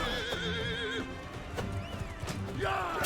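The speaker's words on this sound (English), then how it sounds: "There goes that horse." A horse in a video game gives a loud, close neigh with wavering whinny tones, followed by clip-clopping hooves and other game sounds.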